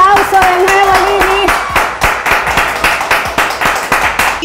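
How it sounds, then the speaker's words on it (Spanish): An audience at an Ardyss Life company event applauds a newly named California president, starting in a loud, dense burst with cheering voices, then thinning into scattered individual claps with sharp, separate strikes. "un gran aplauso de nuevo, Lili"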